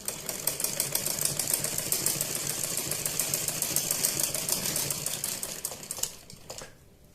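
A sewing machine stitching a saree border, a fast continuous mechanical rattle that runs steadily and then stops near the end.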